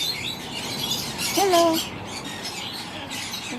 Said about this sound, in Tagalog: Ang daming huni ng ibon.